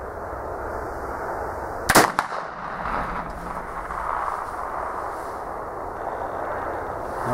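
A muzzleloader loaded with Yukon Gold powder fires a single sharp, loud shot outdoors, the blast decaying quickly into ambient noise.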